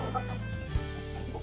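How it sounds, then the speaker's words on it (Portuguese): Free-range chickens on a rural Brazilian farm clucking softly nearby, low repeated clucks with one brief louder bump, set against a steady background hum. "Vou vivendo com as galinhas."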